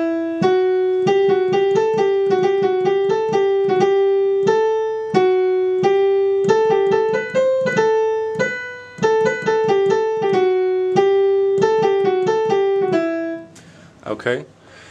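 Solo piano plays the right-hand rhythm of a piece, a steady stream of repeated melodic notes, close and clear, ending with a short rustle.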